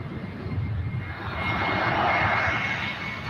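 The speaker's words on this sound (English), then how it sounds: "Got an American A321 flying over us" An American Airlines Airbus A321 passes overhead near LAX, a steady broadband jet roar that swells gradually and peaks toward the end of the short stretch.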